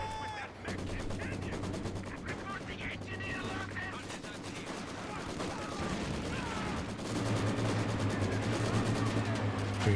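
Company of Heroes 2 battle with rapid, dense gunfire crackling nonstop, bursts of machine-gun fire and rifle shots layered under a commentator's ongoing talk, with the intensity building toward the end.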